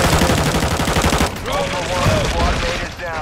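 Rapid gunfire rattles loud and dense through the first second and a half of an online tactical video game firefight, then thins into scattered shots and effects while a voice talks over the action.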